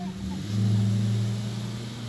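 A bus rolls past on a road, its engine a low, steady rumble that swells briefly and fades, fairly faint and heard alone.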